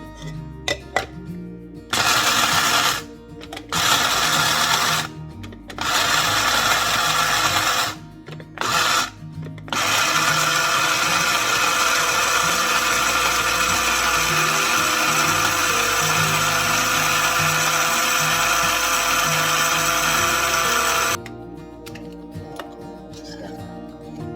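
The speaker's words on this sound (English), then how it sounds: "into my coffee grinder" A loud electric coffee grinder grinding coffee beans whirs in several short bursts, then runs steadily for a long stretch before cutting off, close up with no voices.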